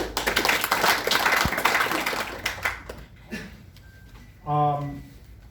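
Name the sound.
audience clapping for a speaker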